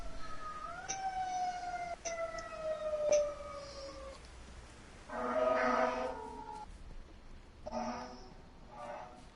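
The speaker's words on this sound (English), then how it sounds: "Fucking sirens outside, really?" Emergency vehicle sirens wail outside, with gliding, falling tones that are moderately distant and muffled, followed by fainter, broken bursts of sound.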